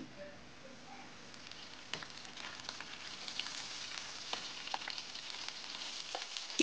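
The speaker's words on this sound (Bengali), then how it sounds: "দেখুন আমি ফ্রাই করে নিচ্ছি।" Koi fish coated in turmeric and chili frying in hot oil in a pan, giving a faint, steady crackling sizzle with scattered small pops.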